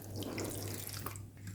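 Water pouring steadily into a bowl of gram flour batter for potato kebabs in a home kitchen, a continuous close splashing trickle lasting throughout with a low steady hum beneath.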